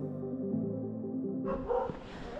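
Dog barking on the streets of Kaza in the Spiti Valley, a sharp outburst breaking in partway through after steady low background noise, fairly close and loud, with no talk over it.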